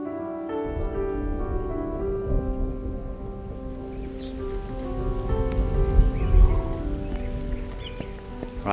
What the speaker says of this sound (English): here comes the inevitable rain coming through the valley behind me here